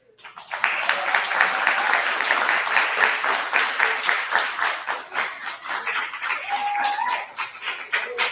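An audience at a Black media summit breaks into sustained applause for a speaker, dense steady clapping that starts abruptly and carries on evenly throughout, with a faint voice briefly audible underneath.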